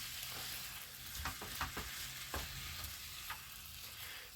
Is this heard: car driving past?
no